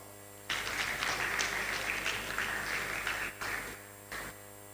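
Dinner guests applaud a graduating law class at a university college of law inaugural dinner, a dense burst of clapping that starts abruptly, holds steady for several seconds, then breaks off and fades in short trailing patches.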